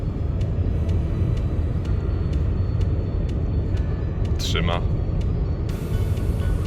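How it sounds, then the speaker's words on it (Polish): A car driving on a motorway gives off a constant low road and engine rumble with wind noise at highway speed, while someone talks over it. "praktycznie na autostradzie samochód prowadzi się sam"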